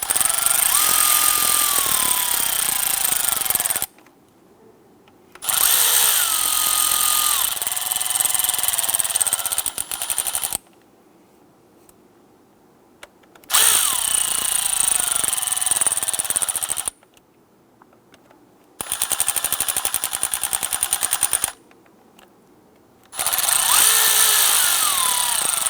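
A power drill snugs down the bolts on a camshaft position sensor of a 2011-2021 Jeep Grand Cherokee 3.6L V6, whirring in five loud bursts of a few seconds each, separated by short silent gaps.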